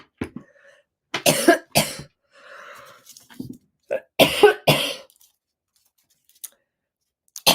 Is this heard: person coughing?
yes